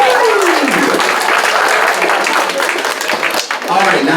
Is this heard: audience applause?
yes